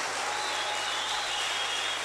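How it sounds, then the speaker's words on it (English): Dense, steady applause from a church congregation fills the space, a continuous wash of many hands clapping at once with no talking over it. "clap louder for the King of Kings"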